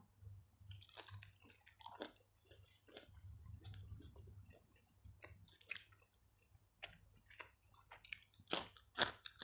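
Crunchy spicy squid salad being chewed close to the mic, a run of sharp crisp crunches and wet squishy bites in an uneven rhythm, growing louder toward the end, with no talk.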